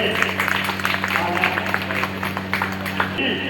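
Applause at a yajnopavit (sacred thread) ceremony, a steady patter of many hands clapping continuously for several seconds over a low background hum, moderately close.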